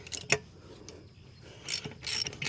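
Screws are tightened on an old 1968 Ford XL with a ratchet, making a sharp click, then a pause, then two short bursts of rapid clicking, fairly close and quiet.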